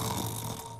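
A cartoon character imitates snoring with one drawn-out, nasal, rumbling snore that is close, loud and steady and then fades slightly at the end.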